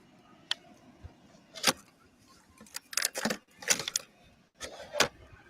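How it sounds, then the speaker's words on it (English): Clinks, clatters and rattling of ice and plastic as a bottle is pushed into a cooler, in several short bursts with a brief pause between. "That's the sound of me reinstalling my bottle to the ice chest."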